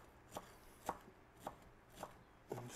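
A knife chopping fresh Italian parsley on a board for chimichurri, five spaced, crisp strikes at an unhurried pace, fairly quiet with no talking.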